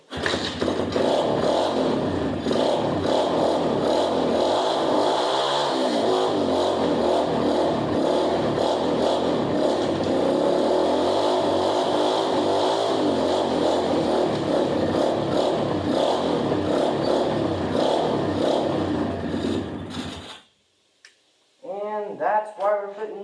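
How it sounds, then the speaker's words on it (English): A motorbike in need of a new carburetor starts and runs, its engine rumbling loudly and unevenly for about twenty seconds close by before cutting off, followed by a brief voice. "I'm going to give you guys a start on this bike so you guys can hear what it sounds like"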